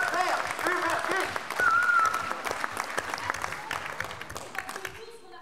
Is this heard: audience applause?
yes